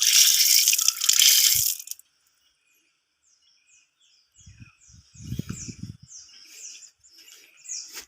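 A tap runs into a sink at a campsite in San Juan, Batangas, with a loud steady gush of water for about two seconds, then cuts off, leaving birds chirping softly in the background.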